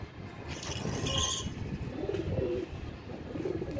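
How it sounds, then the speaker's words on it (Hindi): Pigeons coo softly on a home rooftop, low murmuring calls rising and falling over a steady outdoor hum, with a brief brighter chirp early on. "छत के कबूतर"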